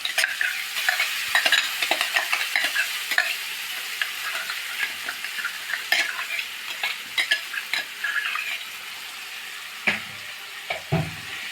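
A paste of ground coconut, four green chilies and four garlic cloves is stirred in a hot pan for a curd and spinach curry, giving steady sizzling with frequent scraping stir strokes, close and fairly loud, with no talk.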